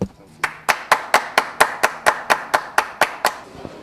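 Slow, evenly spaced hand claps for actress Ruth de Souza at her biography launch, about a dozen crisp beats in a steady rhythm, close and fairly loud, as if from one or a few people.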